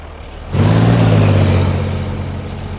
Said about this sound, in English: Turn the engine up.